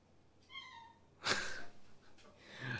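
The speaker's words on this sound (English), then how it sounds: "My cats always start being noisy" A house cat gives a short meow, then a louder breathy sneeze-like burst and another soft cry, close by in a quiet room.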